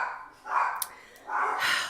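Two short dog barks or yips sound close by, one after another, each followed by a brief pause, loud and clear with no other sound around them.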